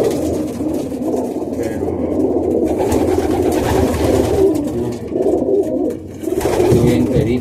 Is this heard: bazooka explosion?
no